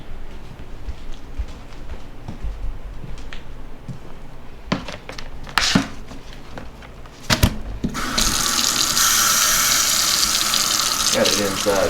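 Warm tap water runs for rinsing a tie-dye tee, a steady loud gush that starts after a few seconds of handling knocks and clatter, then pours continuously close by.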